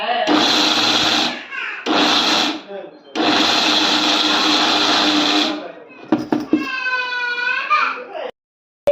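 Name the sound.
mixer grinder pulsing to grind palli podi (peanut powder)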